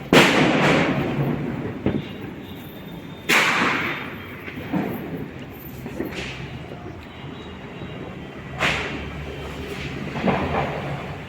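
Repeated booming bangs of Diwali firecrackers exploding outdoors in the evening, several irregular blasts at varying distances, each trailing off into echoing rumble.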